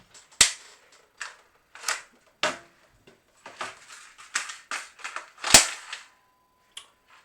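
A Nerf Rival Era blaster fires foam balls in a quick, irregular run of sharp snapping shots, with lighter mechanical clicks between them, close and clear in a quiet room.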